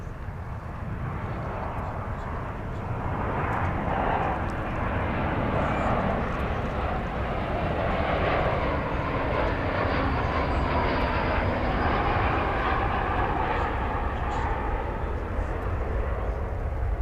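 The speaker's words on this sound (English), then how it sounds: "flight 1584 from Las Vegas, and Airbus A321 is just about here" Airbus A321 airliner arriving at Dallas Fort Worth airport, a steady moderate jet rumble holding level throughout, with faint voices in the background.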